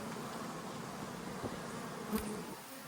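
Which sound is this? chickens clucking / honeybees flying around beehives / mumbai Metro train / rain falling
honeybees flying around beehives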